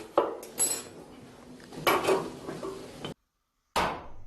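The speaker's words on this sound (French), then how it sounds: "Après avoir fabriqué le lingot d'argent, il faut à présent le travailler au marteau pour le transformer en tige." A silver ingot being hammered by hand to draw it into a rod: a series of sharp, ringing metallic strikes at irregular intervals, fairly close and loud, with a short silent gap before a final blow.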